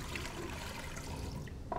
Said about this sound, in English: So I'm going to put my water first